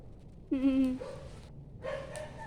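A dog gives a couple of short, tonal barks or yelps at a moderate distance, separated by a brief pause.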